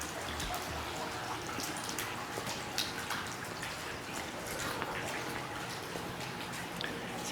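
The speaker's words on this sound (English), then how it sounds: "The sound of the water is just very soothing to people" A water feature runs steadily in a shaded gazebo area at a senior living community, a soft continuous trickle and splash with faint scattered drips, fairly quiet and alone.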